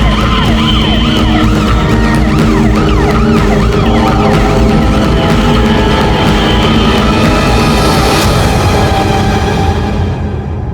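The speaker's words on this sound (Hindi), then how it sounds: "एम्बुलेंस आई क्या?" An ambulance siren wails loudly and continuously, its rising and falling tones layered with traffic noise as the vehicle arrives, with no talking over it.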